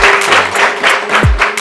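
A schoolroom class applauding their class captain, a short burst of close, dense clapping from a group with a few louder thumps.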